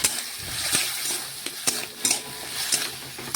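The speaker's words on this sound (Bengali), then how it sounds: "এটাও ভালোভাবে দেখুন নাড়াচাড়া করে মিশিয়ে নিয়েছি" Chili powder stirred into potatoes frying in a pan, with a steady oily sizzle and several sharp scrapes and clinks of a spatula against the pan.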